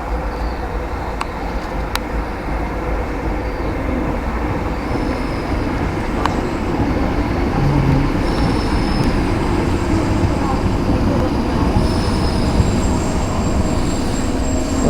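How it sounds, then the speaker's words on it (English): A Tyne & Wear Metro train bound for the airport gives a steady, close rumble that builds slightly and holds for the whole stretch, with faint crowd murmur underneath. "The next train at platform 2 is for airport."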